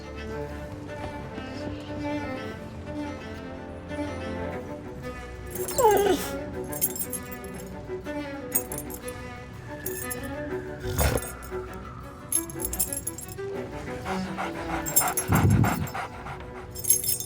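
A dog panting and whimpering in the Sea of Thieves video game, continuing through the whole stretch with jangling key clinks and metallic taps over a steady background music bed.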